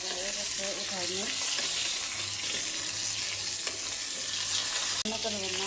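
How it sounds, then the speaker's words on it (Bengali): Fish fries in a hot pan with a steady, fairly quiet sizzle and a sharp clack near the end, with faint tones and background household sounds. "মাছ ভাজা হয়ে গেছে, উঠাই নিয়ে"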